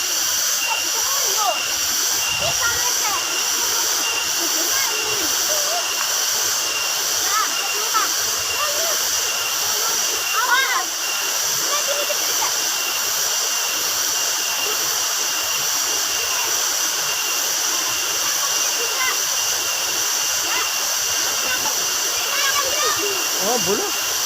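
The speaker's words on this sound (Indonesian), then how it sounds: "Air terjun apa? Air terjun Dolo." Dolo waterfall in Kediri, East Java, roars as a steady broadband rush of falling water, close and constant throughout, with scattered voices of people talking faintly underneath.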